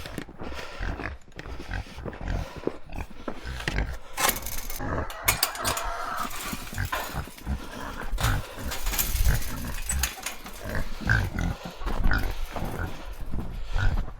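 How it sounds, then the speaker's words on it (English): Farm pigs grunt and snuffle close by on a winter farm during a power outage, a busy, uneven stream of low animal noises with faint clinks in the background. "Hi, pigs."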